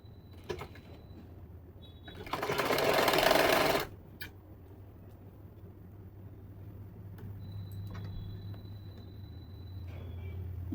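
A sewing machine runs in one short, loud burst of stitching on a pair of pants, about a second and a half long, then stops. A steady low hum continues underneath, with faint handling noises before and after.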